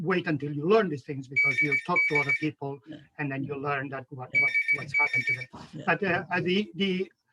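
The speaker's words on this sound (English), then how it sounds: "sorry about the phone." A telephone rings in the background of an interview, its bursts repeating at regular intervals under steady, continuous conversation.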